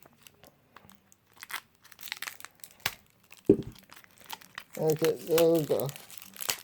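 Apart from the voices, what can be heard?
tearing open a taped package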